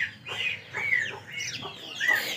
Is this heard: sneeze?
no